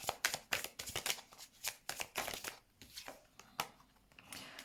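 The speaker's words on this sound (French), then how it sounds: "je mets une dernière carte" Tarot cards drawn from a deck and laid down on a surface, giving a close, crisp run of quick card snaps and papery slides with brief pauses between them.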